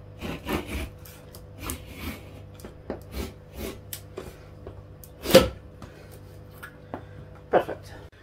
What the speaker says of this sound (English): cut number two is going to just take the back edge off